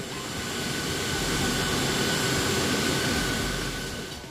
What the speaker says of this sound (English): A transmission pipeline rupture often can make a sound like a jet engine.